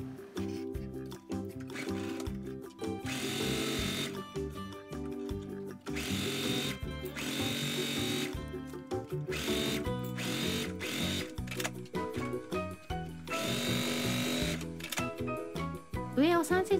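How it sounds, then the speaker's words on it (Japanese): A sewing machine stitching the outer and lining fabric of a small wire-frame pouch, its motor running in several bursts of rapid needle clatter separated by short pauses, close and moderately loud. "内生地も上を3センチ開けて返し口を開けて縫っていきます。"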